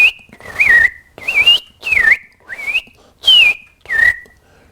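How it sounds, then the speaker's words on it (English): American robin singing a series of six clear, whistled phrases with short gaps between them, loud and close. "An example would be, here's an American robin,"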